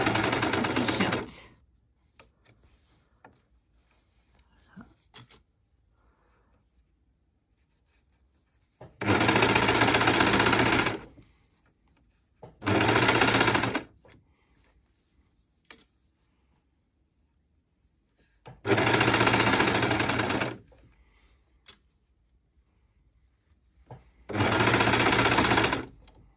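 A sewing machine runs in five separate bursts of rapid stitching along a T-shirt shoulder seam, each lasting one to two seconds, loud and close, with near silence between runs.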